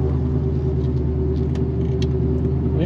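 A Pontiac GTO engine in second gear while the car brakes hard, a loud steady low rumble that holds throughout with no talk.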